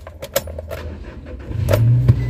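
A 2018 Toyota Hilux engine idling at high RPM, a steady low engine rumble that swells louder toward the end, mixed with jangling keys and a few close clicks early on.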